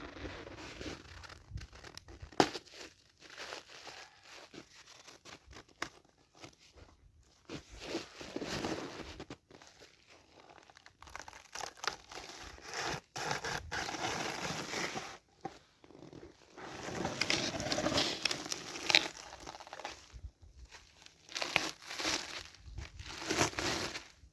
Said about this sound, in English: the key is to pull this out without damaging the plastic bag.